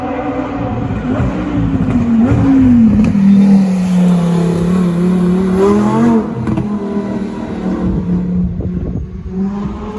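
A very wide car at the Shelsley Walsh hill climb accelerates hard, its engine note climbing, dipping and rising again. The loud revving roar stays close, then eases into a lower hum as it moves away.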